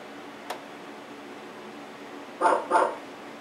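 Two quick dog barks in a row, slightly thin and tinny, played from computer speakers with Skype running, after a faint click.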